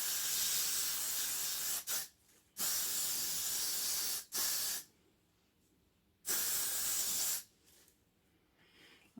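Hair product is sprayed onto thick natural hair for a wet look in long, loud, close hissing bursts, four main sprays separated by short quiet gaps.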